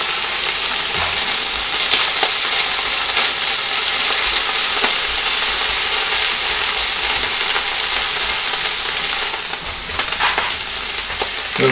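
Tuna browning in a pan, added to an existing fry-up, makes a loud, dense, continuous sizzle with occasional scraping and stirring clicks close by.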